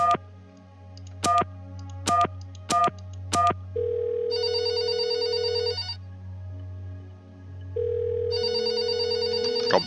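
In the video game There Is No Game, an old telephone bell rings in several short bursts, followed by longer electronic ringing tones, loud and close with no voices over it.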